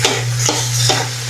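Vegetables and pineapple chunks are stirred in a pan, a loud, close scraping and shuffling in a few strokes over a constant sizzle and hum.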